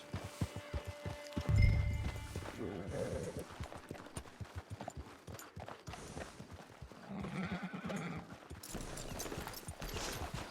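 Horse hooves clopping with a brief snort or whinny among them, set against a busy Red Dead Redemption 2 Online game soundscape of ambient music and effects.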